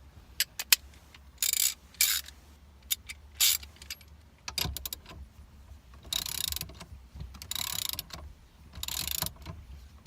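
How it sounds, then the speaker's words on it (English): Ratchet tightening the 21 mm steering wheel bolt on a 1997-2001 Jeep Cherokee XJ, heard as several bursts of quick clicking separated by pauses, close up and with no talking. "put the bolt back on for the steering wheel and tighten that down."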